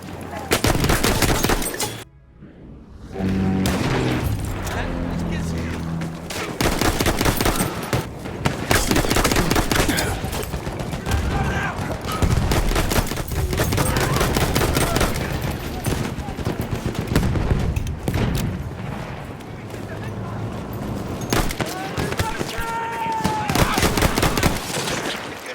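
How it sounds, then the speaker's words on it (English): An M1909 light machine gun firing in Battlefield 1: long, loud bursts of rapid automatic fire, close and nearly unbroken. A brief lull comes early, then more sustained fire follows, mixed with distant battlefield gunfire and a few spoken lines. "the M1909 light machine gun"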